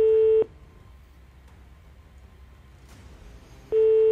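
A phone ringback tone sounds twice, a steady beep at the start and again near the end, separated by a quiet pause.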